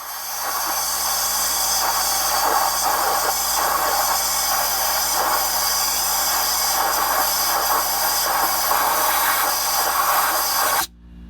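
An air blower blasts through the oil jets and oil pickup area of an engine, clearing out oil. It makes a loud, steady hiss that runs unbroken for several seconds and then cuts off abruptly near the end.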